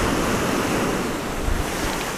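Ocean waves breaking on a winter beach, a dense continuous roar of surf mixed with wind buffeting the microphone, loud and close throughout.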